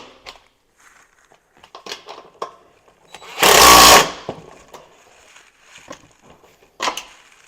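Power tool with an 11mm socket tightening bolts on Super ATV doors on a CanAm Defender, one loud sustained whir of about a second amid scattered handling clatter and knocks.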